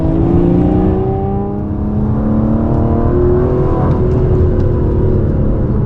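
An Aston Martin DB11 V12 engine revs and pulls hard, its rising and falling harmonic wail loud and close, surging through gears without a break.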